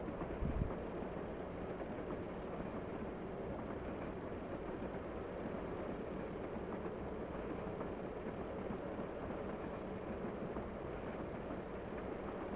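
Low, steady rumble of a Derby Lightweight DMU train engine in Train Simulator Classic, droning continuously at moderate level, with no voices.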